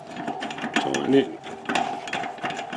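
A ratchet wrench tightens the mounting bolts on an Inverto satellite dish set on a floor mount, fast close clicking in short bursts with some rustling handling noise, and a voice speaks briefly.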